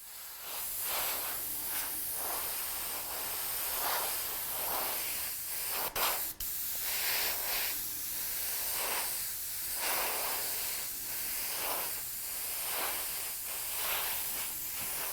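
An airbrush spray paints a scale model bicycle frame in a series of short bursts, each a soft close hiss repeating in a regular rhythm with brief gaps.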